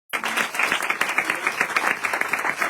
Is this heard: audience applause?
yes